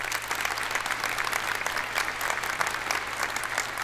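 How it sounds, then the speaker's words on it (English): A graduation audience at the 2017 Marino Campus ceremony breaking into sustained applause, dense steady clapping from a large crowd filling the hall throughout. "I give you each a round of applause."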